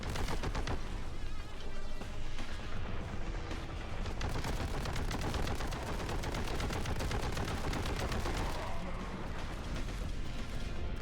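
Dense, continuous gunfire from the Warhammer 40,000 video game Boltgun, rapid automatic bursts and heavy blasts layered loudly and close for the whole stretch, with no talking.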